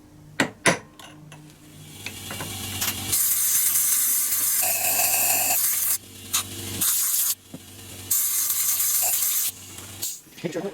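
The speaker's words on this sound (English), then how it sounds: "That's why I use some compressed air to clean it." Compressed air blasting in several sustained hissing bursts to clean debris out of a transmission tail-piece bearing in a backyard, loud and close, with short pauses and clanks between blasts.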